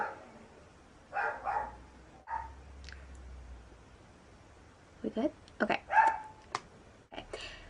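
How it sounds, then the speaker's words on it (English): Pet dog barking indoors in a few sharp, moderately distant bursts, with short yips near the end, while a person speaks a few words. "My dog is barking."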